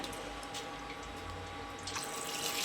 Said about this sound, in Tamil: நல்லா மூழ்கிற அளவுக்கு தண்ணி வச்சுக்கலாங்க